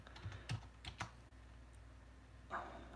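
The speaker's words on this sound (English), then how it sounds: "Sorry, I was typing over here." Someone types on a computer keyboard, tapping a few scattered keys in short clusters, fairly close but quiet, with no talking.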